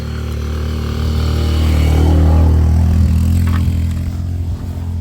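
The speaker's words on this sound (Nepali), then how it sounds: "बाइक आयो," A motorbike on a narrow village path comes up close and passes, its engine a loud, low rumble that swells in the middle and fades slightly toward the end.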